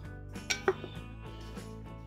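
Two small non-stick camping cook-kit pots clink together twice in quick succession, a light metallic tap against a quiet, steady background hum.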